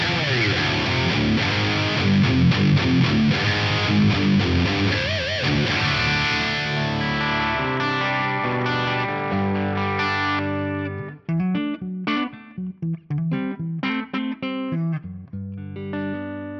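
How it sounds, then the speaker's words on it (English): Electric guitar through a TC 2290 delay tone in a Fractal unit: distorted chords and notes, loud and sustained, then a cleaner tone with choppier phrases and echoing repeats toward the end. "Let's hear the dirty tone and then the clean tone, then some delay."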